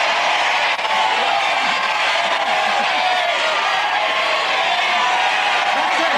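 A large crowd roars and cheers continuously, with scattered whoops and shouts blending into a dense, loud wall of noise.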